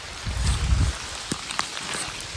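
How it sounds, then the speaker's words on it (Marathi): Heavy rain falls outdoors among farm fields on the way to Tikleshwar Temple near Devrukh, a dense hiss of drops with a brief low rumble at the start. "आता पाऊस पण जरा जोरात आला आहे"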